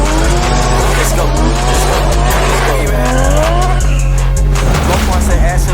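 A Dodge Challenger Redeye slides around a legal pit with loud, continuous tire squeal layered over a roaring engine, close and sustained for several seconds, while people shout and talk over it.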